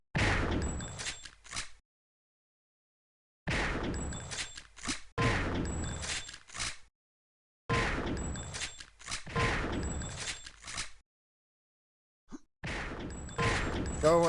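Rifle jumps and gunfire in a Quake-style instagib arena match, heard as bursts of sharp shots and impacts in several separate clusters with silent gaps between them, loud and close.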